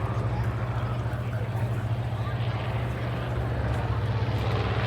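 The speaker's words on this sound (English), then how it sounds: "B-25 is coming in with a pyro path from Tora" A B-25 bomber comes in at the AirVenture airshow with a steady, broad engine drone that holds at moderate loudness with no distinct pyrotechnic blasts.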